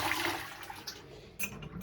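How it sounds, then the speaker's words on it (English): A toilet in a Travelodge hotel bathroom in Woolwich flushes with a rushing, gurgling swirl of water, close by and lasting the whole short moment. "That's the toilet flushing."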